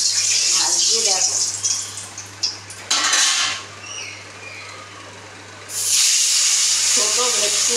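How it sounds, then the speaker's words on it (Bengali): Bhetki (barramundi) fish frying in hot oil gives a hissing sizzle that swells in bursts, under clinking pans and utensils, with a voice talking at the start and end. "এবার আমি মাছটা ভাজছি"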